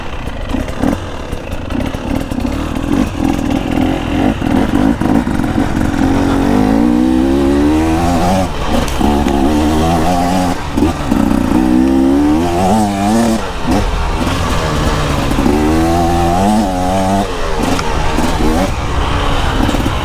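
2024 KTM EXC 300 two-stroke dirt bike engine heard close while riding, revving up and down continuously with a loud, raspy buzz and shifting pitch, under wind noise.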